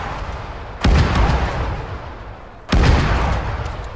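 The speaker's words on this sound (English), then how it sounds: "that's my Dishkas firing their crazy fucking AP fuck you rounds" Two heavy booming bursts from DShK machine guns firing armour-piercing rounds in Arma 3 land about two seconds apart, loud and close, each trailing off in a rumbling decay.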